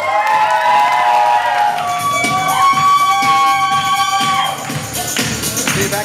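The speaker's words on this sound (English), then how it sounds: "Let's give him a great round of applause." Guests at a wedding reception at Loft Hotel Montreal clapping and cheering for the groom, a lively crowd with whoops over background music, sustained and fairly loud before tapering.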